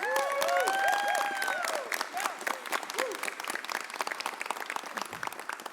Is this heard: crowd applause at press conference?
yes